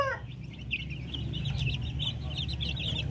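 Pure Darag native chickens cluck steadily while feeding on wet feed, a dense flock of overlapping clucks and chatter heard close up.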